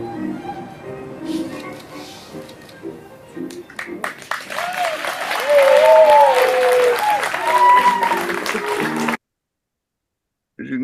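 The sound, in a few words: applause included in a presentation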